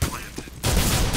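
In a Counter-Strike match on the Inferno map, played at an esports tournament, gunfire breaks out in dense bursts after a quieter moment with a commentator's voice faintly present.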